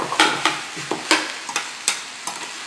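Potatoes stirred into frying bell peppers in a pan give a series of sharp scraping strokes in an irregular rhythm, each one followed by a quick fading sizzle, close and with no voices.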